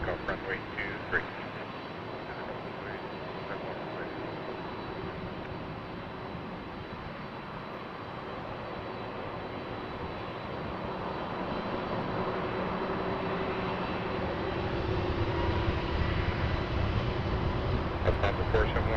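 Airliner taking off from runway 23 at Toronto Pearson Airport, a steady distant jet engine roar that swells louder toward the end as the aircraft powers up, with radio chatter in the background.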